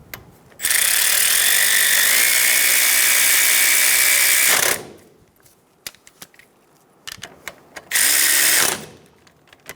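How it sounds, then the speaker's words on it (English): Power tool or ratchet driving suspension bolts on a 2005-2010 Toyota Tacoma during a front shock absorber replacement, a loud sustained whir of about four seconds, then quiet clicks and a second short burst. "Snug down the bolts."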